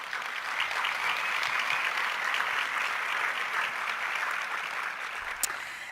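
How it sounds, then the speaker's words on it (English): An audience at a pharmacy school honors and awards ceremony breaks into sustained applause, a thick, even roar of many hands clapping for nearly six seconds before easing slightly at the end. "Let's give them a round of applause."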